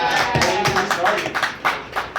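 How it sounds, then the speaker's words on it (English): An audience claps a round of applause with distinct, uneven hand claps and taps standing out, while voices and cheering mix in over the short burst. "Give Quanda a round of applause."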